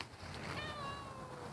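A cat outdoors gives one drawn-out, fairly faint meow, a rising and falling tonal call in the middle of a quiet background.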